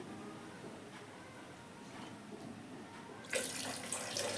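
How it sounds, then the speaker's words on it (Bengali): Tap water pours into a bucket, joined by a splash of Nizal floor cleaner being mixed in for mopping a room floor at home; a steady running rush that grows louder and brighter near the end. "এবার এই জলের সঙ্গে একটু নাইজাল মিশিয়ে নিই"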